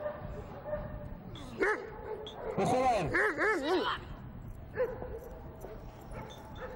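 A dog at a Moscow training ring in the 1990s gives a few barks and yips, with whining tones in the middle, while someone speaks and laughs over it.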